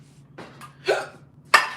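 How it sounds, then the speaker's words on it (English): A person's hiccups, several short sharp bursts spaced apart, close to the microphone with no talking. "Hold on, I got the hiccups."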